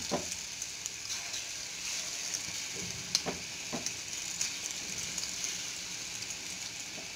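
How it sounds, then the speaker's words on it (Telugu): Pakoda batter deep-frying in hot oil, a steady bright sizzle with scattered pops and crackles across the whole stretch, close and alone with no voices. "ఇప్పుడు మనం ఆయిల్ హీట్ ఎక్కాక మనం పకోడీ వేసుకుందాం"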